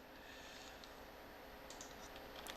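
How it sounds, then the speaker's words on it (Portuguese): Quiet clicking of a computer keyboard as data is entered into a program, light scattered keystrokes in a short burst over a steady background hiss. "Eu vou digitar aqui, ó."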